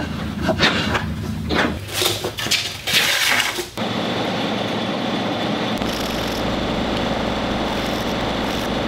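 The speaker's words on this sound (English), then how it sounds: "I used an electric hand planer for this" An electric hand planer, tuned up, levels the top of a log for an anvil mount. A few loud uneven bursts come first, then a steady, close, continuous high whirring drone runs to the end with no talking.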